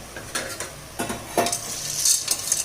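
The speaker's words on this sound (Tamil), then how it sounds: "சும்மா லைட்டாக ஒரு 2 திருப்பி விடுங்க அதில் பாஸ்தாவை" Pasta is being tossed and stirred in a hot pan while sautéing for a paneer cream pasta, with a few scraping clinks of a utensil over a soft sizzle, close and fairly quiet.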